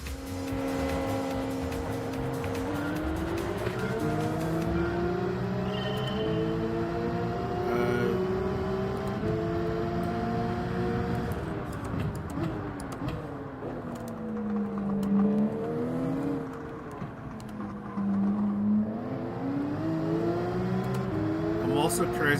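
Race car engines in a manufacturer cup race in a racing video game, a continuous loud engine drone whose pitch rises and falls through gear changes and revving, with someone talking over it.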